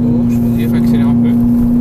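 A Ferrari Italia on a race track hums with a steady engine drone throughout, moderately loud, while an instructor talks over it.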